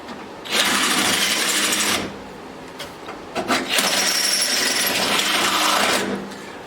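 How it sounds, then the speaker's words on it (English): A cheap Harbor Freight power drill whirring at full speed in bursts, one run of about one and a half seconds, then a short stutter and a longer three-second run, close and loud with no talk. "Hey, it's a Harbor Freight drill."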